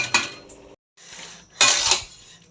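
Metal cookware clanks close by as a lid is set on a cooking pot of jackfruit seed curry, with two bright clatters separated by a short gap of silence.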